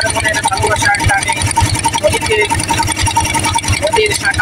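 A boat engine chugs steadily on a river in the Sundarbans, a close, rhythmic low throb that runs throughout, partly under people talking.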